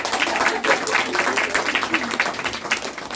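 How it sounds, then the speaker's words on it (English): A room full of audience members applauds a speaker at a talk, with dense, steady clapping that runs through the whole stretch at a fairly loud level, with no voices over it. "Let's give him a round of applause."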